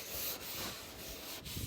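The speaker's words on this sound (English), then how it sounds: "got a bit of wood and chucked it in for a sanding block" Soft rhythmic rubbing strokes of hand sanding soft metal with a wooden sanding block, a few slow back-and-forth passes, quiet and close with no talking.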